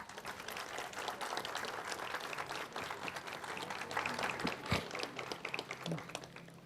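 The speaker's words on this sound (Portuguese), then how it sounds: "Vamos dar para Jesus e para os noivos uma linda salva de palmas." Wedding guests at a lounge venue giving the bride and groom a round of applause, fairly faint, busy clapping from a crowd at some distance, with a few voices in the background.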